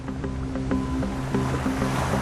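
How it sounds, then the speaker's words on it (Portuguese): Ocean waves wash against a small boat near sea cliffs, a continuous loud rumble of water with rhythmic sloshing knocks against the hull and a little wind, with no voices. "As ondas estão maiores agora."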